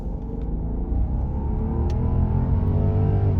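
A Rolls Royce Phantom's V12 accelerates at full throttle, a smooth rising roar climbing steadily in pitch, close and strong, with no talking over it.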